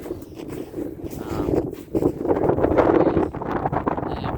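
A headwind blows across an outdoor disc golf course, a rough, gusty rumble buffeting the microphone and swelling and dropping over a few seconds.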